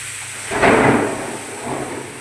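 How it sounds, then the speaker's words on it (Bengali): Thunder rumbles during a rainstorm, one short swelling roll that rises and fades over a steady hiss of rain, fairly loud and with no voices. "কীভাবে বিদ্যুৎ চমকাচ্ছে তোমরা শুনতেই পারছো আওয়াজটা"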